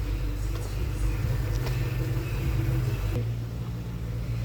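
A Mini Cooper's engine rumbles steadily from inside the car on a test drive after restoration, a low continuous drone with road noise and no talk.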